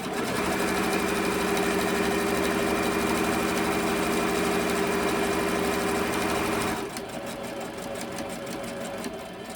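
A domestic sewing machine runs steadily for several seconds, stitching fabric for a small key fob, its rapid mechanical whirr loud and close, then slows and eases to a softer, lighter rhythm near the end.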